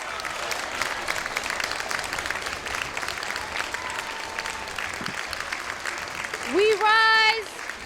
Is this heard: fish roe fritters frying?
no